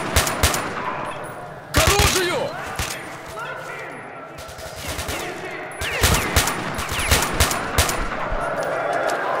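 AK-47 fire in STALKER: Shadow of Chernobyl comes as loud, close bursts of automatic shots in two clusters with a calmer gap between them. A single spoken word comes in partway through.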